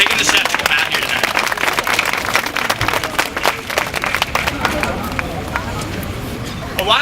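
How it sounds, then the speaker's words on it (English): A crowd at a Take Back the Night rally applauds, dense clapping and cheering that is strongest at first and then gradually thins out, with some crowd murmur underneath. "So please give yourselves a round of applause"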